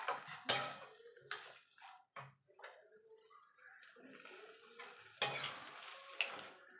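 Cabbage and fish head curry being stirred in a pan, with scraping strokes, soft clinks and a faint sizzle coming in uneven bursts, loudest at the start and near the end.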